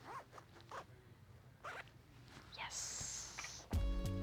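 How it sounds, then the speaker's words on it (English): A dress zipper is zipped up along a newly let-out seam, a few short rasping pulls followed by a longer zip, close and clear, with brief handling noises and a soft voice in the background. "Can we still zip it?"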